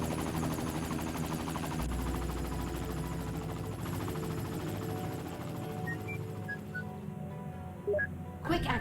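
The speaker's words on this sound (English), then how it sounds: "That's my helicopter." A helicopter in the video game Immersion drones steadily with a rhythmic rotor hum, joined near the end by short electronic beeps and a brief burst of noise.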